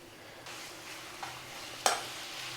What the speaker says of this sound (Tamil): மாங்காய் நல்லா வெந்து நல்லா இந்த பச்சை வாசனைலாம் போகிற அளவுக்கு நல்லா வதக்கிக்கணும்